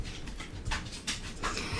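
A dog whimpers and whines in short complaining bursts, close and fairly loud, with soft panting between the cries.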